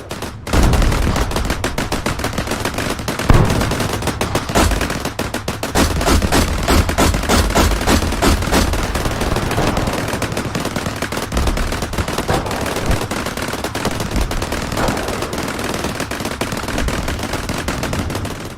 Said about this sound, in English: As cannon fire continues to rain down, massive explosions shake the forest